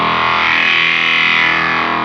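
Guitar through an effects pedal with a huge, Moog-like filter gives a loud, thick and continuous distorted tone that holds steady without a break.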